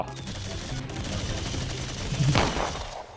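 Gunfire from shooting in the video game Blox Fruits, a dense run of rapid gunshots over game background sound, peaking in a louder burst near the end, with no talking.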